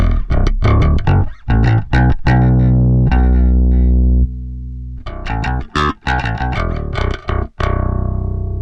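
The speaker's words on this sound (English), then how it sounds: "that's the sound of the pedal kind of raw with no switches on and everything at 12 o'clock" Bass guitar played raw through an amp-sim pedal plugin with no impulse response and every knob at noon, heavy chugging palm-muted riffs with a sustained ringing note midway, loud and alone.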